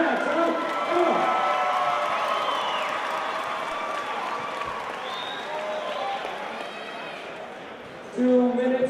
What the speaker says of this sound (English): Let's get another big round of applause for these two fighters.